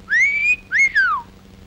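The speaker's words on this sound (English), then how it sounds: "Some wolf stops to give her the whistle." A cartoon wolf whistle rings out loud and clear, a rising sustained note followed by a quick second swoop that falls away, alone over faint background.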